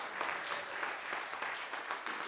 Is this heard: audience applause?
yes